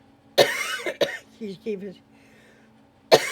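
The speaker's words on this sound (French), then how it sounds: "dès que je parle, je commence à tousser" A woman coughs sharply twice, then gives a few soft throat sounds and one more cough a moment later, close and loud, with a few spoken syllables between.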